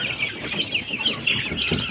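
Young chickens in a cage cluck and chirp continuously at close range, a busy overlapping chorus of short calls with no talking.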